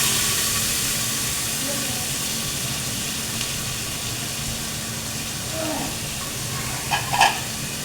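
Chopped onion and garlic going into hot oil with cumin seeds, a steady soft hiss and sizzle that carries on throughout, with a few faint clinks near the end.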